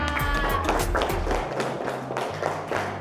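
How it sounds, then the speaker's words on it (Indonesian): A classroom of students claps for a classmate, a short scattered burst of hand claps with a low hum beneath, fading within a few seconds amid faint murmuring. "Tepuk tangan untuk Jalpa."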